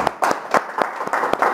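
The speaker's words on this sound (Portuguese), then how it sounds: "Uma salva de palmas." A short burst of applause at a Brazilian police-news broadcast, with a handful of quick, close claps in an uneven rhythm over a brief murmur.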